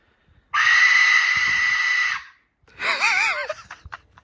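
An Aztec death whistle is blown twice nearby: first a long, harsh, piercing shriek like a human scream, then a shorter wavering wail that warbles up and down, with light handling noise between.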